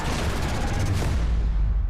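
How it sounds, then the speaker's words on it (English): Dense, loud rumbling barrage of blasts and machine-gun fire from a film trailer filling the whole stretch, with heavy low booms underneath and a sustained roar. "Explosions."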